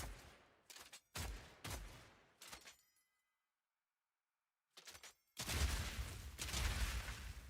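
Double-barrel shotgun blasts in a video game: several sharp, loud bursts in quick succession, a pause of near silence, then a couple more shots and a long sustained roar of gunfire and explosions.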